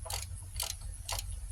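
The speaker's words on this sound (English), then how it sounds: "my long blue handled ratchet. And we're just going to snug them up." A long blue-handled ratchet snugs lug nuts on a 2006 Dodge Grand Caravan during rear hub bearing work, giving three short, crisp bursts of ratcheting clicks over a low steady hum.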